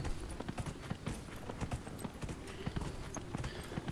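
Horse hooves clip-clop steadily across terrain while a horse is ridden in the fantasy role-playing video game Dragon Age: Inquisition, a continuous, fairly close run of hoofbeats lasting throughout.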